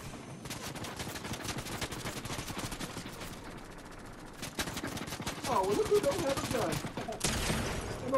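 Gunfire in a Fortnite Zero Build duos match: dense, rapid bursts of shots crackling through most of the stretch, growing louder toward the end, with a short lull partway through.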